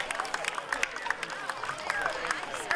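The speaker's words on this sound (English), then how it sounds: "Give yourselves a big round of applause." Audience at a Lady Houdini illusion show at the 2016 W.C. Fair gives a round of applause, scattered sharp claps building into steady clapping from a crowd, fairly close and lively.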